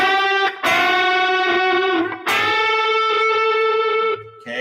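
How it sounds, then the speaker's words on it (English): Electric guitar driven through a Tube Screamer overdrive pedal plays sustained, bent notes with a gritty, distorted tone, loud and close, with two brief pauses between phrases. "If you go and add a little more overdrive, like this, I just stepped on a tube screamer."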